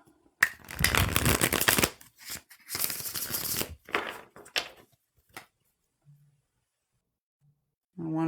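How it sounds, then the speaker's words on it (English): A deck of tarot cards being riffle-shuffled in two loud bursts, followed by a few quieter taps and shuffles, then near silence. "Sometimes the deck just needs an extra shuffle."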